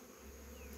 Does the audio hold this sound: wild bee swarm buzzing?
yes